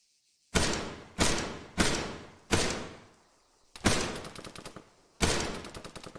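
Bursts of machine gun fire in Arma 3, six loud close volleys in quick succession, each a dense rattle of rounds decaying into a reverberant tail, with a brief quieter gap midway.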